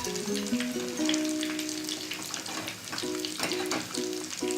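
Fish fingers frying in hot oil make a soft, steady sizzle and bubbling that runs the whole time, with background music playing over it.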